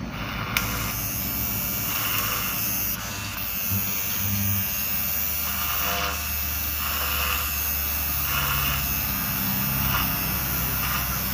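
A sharpened Wahl electric hair clipper runs steadily at close range, giving a continuous buzzing hum with a brief shift near the start and no talking.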